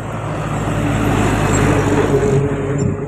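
A truck carrying a load of motorcycles rumbles along a road nearby, a steady loud engine drone with broad traffic noise that holds through the whole moment.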